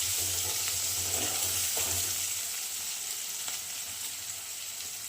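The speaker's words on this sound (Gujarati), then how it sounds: "કેપ્સિકમ સરખી રીતે સતળાઈ જાય એટલે એમાં આપણે થોડુંક નમક નાખી દેવાનું. આ રીતે હલાવી લેવાનું." Capsicum sautés in a hot pan, a steady bright sizzle with a few soft scrapes of stirring, close and continuous with no talking.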